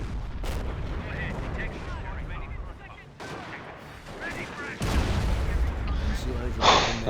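A 17-pounder anti-tank gun firing in the Company of Heroes video game, part of dense battle noise with heavy booms and rattling gunfire that swell louder partway through, while a voice talks over it.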